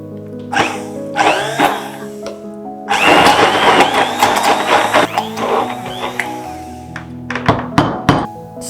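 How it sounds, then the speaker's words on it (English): Hand blender whirring through cooked apple puree in a plastic pitcher, loud and close, starting after a few knocks and clunks, running steadily for several seconds, then cutting out into scattered bumps. "Pour the puree in a plastic pitcher and hand blend."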